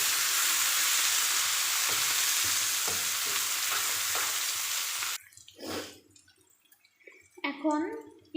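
Onions frying and stirred in a pan for a beef curry, a close, busy sizzle with scraping stirs that cuts off abruptly, followed by faint clinks and a short stretch of talk.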